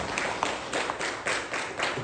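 Applause from an audience at a DXN meeting, thanking a doctor, a brief patter of clapping that sounds moderately distant and fairly soft.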